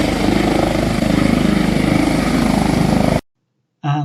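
A helicopter parked beside cars runs nearby with a loud, steady rotor and engine thrum that chops rhythmically, then cuts abruptly to silence followed by a brief burst.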